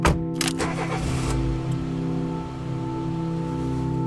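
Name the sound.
car driving through cemetery gate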